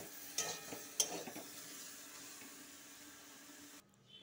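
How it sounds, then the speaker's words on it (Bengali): Low, steady sizzling of paneer and soybeans frying with spices in a pan, with a couple of clinks of a utensil early on, fading out near the end. "সোয়াবিনটা ভাজা হয়ে গেছে, পনিরের সাথে এখন হালকা আবার ভেজে নেব"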